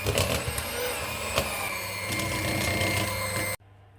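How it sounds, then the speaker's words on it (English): Electric cake mixer blending banana loaf batter, a steady loud whirring hum that runs continuously and then drops to a quieter low drone near the end. "use the cake mixer and blend it all in perfectly"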